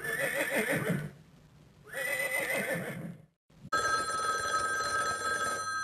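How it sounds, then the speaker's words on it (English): A horse gives two loud, shrill whinnies separated by a brief pause, then a steady electronic ringing tone takes over after a moment of near silence. "Horse."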